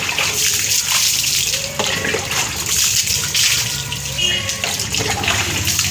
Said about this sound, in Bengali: ওকে কলের জলে স্নান করানো হয়।